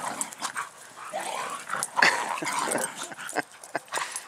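Two small dogs, Buddy and Trixie, scuffle with a much larger dog named Angus, with snarls, yips, whimpers and quick growly bursts at close range.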